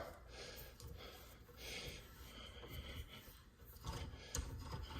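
A GEARWRENCH ratcheting die, oiled with cutting oil, cuts threads onto a carriage bolt. It makes faint, repeated scraping, rasping strokes in an uneven rhythm.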